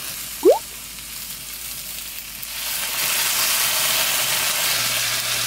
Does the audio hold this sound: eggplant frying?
yes